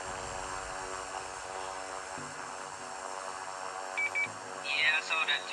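Dash 8 turboprop engines drone steadily in strong 24-knot wind during a flight-sim landing approach, a constant mid-loud whine with faint radio chatter near the end.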